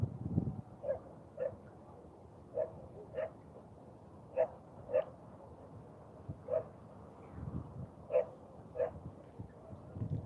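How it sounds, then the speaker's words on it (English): Dogs bark from a distance at a fishing spot, with single and paired barks spaced irregularly over a low background hum and no talk. "Got dogs barking their heads off."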